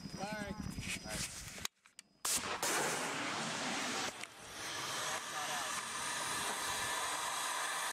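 Heavy combat firefight in Afghanistan: a loud, sustained roar of rocket or weapon fire follows a sharp blast and a brief drop, while voices shout nearby.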